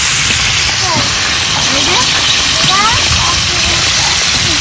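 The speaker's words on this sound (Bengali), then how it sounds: "হ্যাঁ, ভাজা হচ্ছে তো।" Mango pieces frying in hot oil in a home kitchen for a sour mango dish, a steady bright sizzling hiss throughout, with people talking over it nearby.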